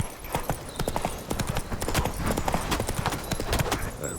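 Roach, a horse in The Witcher 3: Wild Hunt, gallops with a steady, loud clip-clop of hooves throughout, rhythmic and close, with no talk over it.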